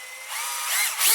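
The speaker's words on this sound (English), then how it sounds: "It's a 2-speed 12-volt drill driver." A Bosch GSR 12V-300 brushless two-speed 12-volt drill driver with a 3/8-inch chuck spins up with a steady high whine that builds and stays loud and close throughout, with no talk.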